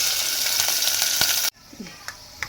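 Fenugreek curry tempering in hot oil sizzles loudly and steadily for about a second and a half, then drops sharply to a quieter crackle with a few scattered pops and light stirring clinks.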